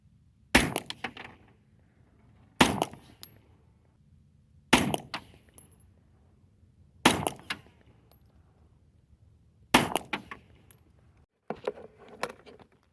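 Six unsuppressed shots from a 9mm Glock pistol firing subsonic reloads with Power Pistol powder, each a sharp crack with a short decaying echo, spaced about two seconds apart and heard from a moderate distance, with no talking.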